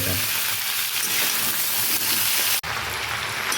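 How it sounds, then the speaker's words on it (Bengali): Malabar spinach stems, pumpkin and shrimp frying in a pan, a loud, dense and continuous sizzle with stirring scrapes, briefly cut off for an instant near the end before resuming. "তো এগুলো আমি এখন ভালো করে ভেজে নেব"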